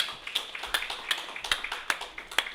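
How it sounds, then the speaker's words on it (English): Light, sparse clapping from a conference audience at a diaspora homecoming convention opening session, a steady patter of individual claps close by and fairly faint. "Another round of applause to capital markets."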